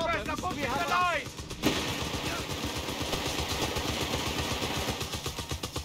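Gunfire in Company of Heroes 3 during a North African campaign battle: dense, rapid machine-gun and rifle bursts crackle continuously, with a brief flourish of shouted voices and radio chatter early on.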